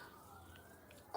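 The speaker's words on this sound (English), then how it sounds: "There's sirens going in the background." A distant siren wails faintly, a single drawn-out tone rising slowly over a low background murmur of outdoor ambience.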